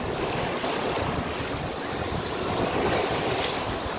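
Wind buffets the microphone over a steady wash of surf on Fort Myers Beach, a loud continuous roar with no voices.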